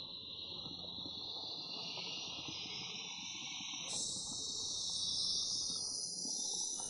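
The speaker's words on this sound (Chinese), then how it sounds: "丛林当中知了的声音" Cicadas singing in an overgrown rural thicket, a steady, shrill buzzing drone that carries from a distance and swells louder partway through, with no voices.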